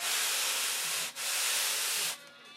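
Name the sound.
sanding bar truing up a wooden piece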